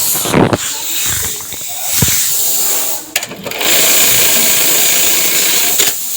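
A bar-tack sewing machine stitches trousers with a steady, close mechanical whirr and hiss that briefly dips and pauses before running on continuously.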